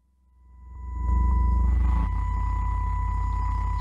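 Steady electronic tones of three added sine waves fade in and hold, a low hum layered with higher pure pitches, sustained and unchanging.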